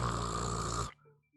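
A voice imitates a ship-filling snore, producing one loud, continuous, rumbling snore for about a second that cuts off abruptly into near silence.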